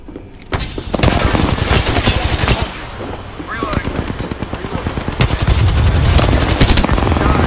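Rapid automatic gunshots in Apex Legends, close and loud, in bursts of quick repeated cracks with short pauses. A dense volley builds toward the end, and a voice is briefly heard amid the firing.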